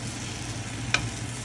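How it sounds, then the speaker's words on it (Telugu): Gunta punugulu frying in a pan, with a steady low sizzle and a single sharp click as a spoon flips them, close and quiet, with no talking. "నేనైతే ఇక్కడ స్పూన్తో ఫ్లిప్ చేస్తున్నాను"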